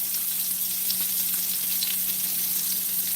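Duck breast rendering its fat in a pan gives a steady, bright crackling sizzle, close and continuous, with no voices.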